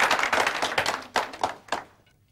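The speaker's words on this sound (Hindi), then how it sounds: "ताली इनके लिए बड़े जोर से।" An audience on a quiz-style kids' game show claps loudly, a burst of many hands that fades out over about two seconds into near silence.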